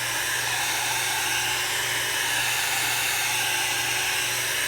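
A hair dryer on its cool setting blows steadily across alcohol ink drops on white craft plastic, giving a constant close whirring rush with a faint low hum underneath, no pauses.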